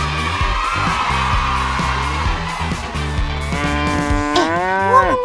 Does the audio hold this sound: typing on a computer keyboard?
no